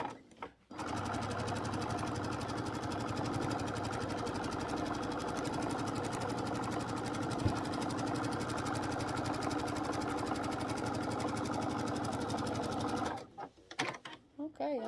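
A sewing machine runs a top stitch around the curves of an egg-gathering apron, a continuous close-up motor whir with fast rhythmic needle clatter lasting most of the clip before stopping.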